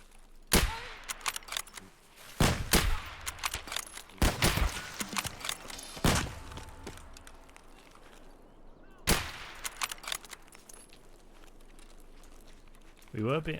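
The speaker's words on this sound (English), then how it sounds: "I'm pretty sure that shotgun scav was shooting at us" Shotgun blasts from an AI scav ring out in the Escape From Tarkov game, several sharp, loud reports spaced a second or two apart among footsteps and gear rattles, with someone talking at times.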